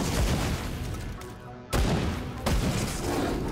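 Ranged shots fired in the action RPG Grim Dawn, a dense run of game gunfire and impacts that continues almost throughout, with a sharp renewed burst partway in and another just after.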